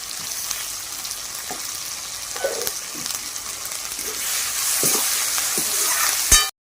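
Ground chilli, coriander and cumin spice paste fries in oil for a prawn and banana flower curry, giving a steady bright sizzle with occasional scraping stirs, close up, before cutting to silence at the end.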